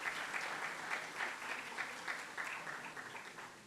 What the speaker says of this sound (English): I'll take that applause